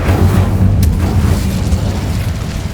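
A loud, deep boom from the Incendio fire spell in Hogwarts Legacy bursts at once and rolls on as a heavy rumbling roar, with a brief sharp crackle partway through.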